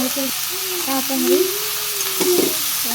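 Fish seasoned with salt and turmeric frying in a pan, a steady close sizzle and hiss with occasional stirring, alone without talk.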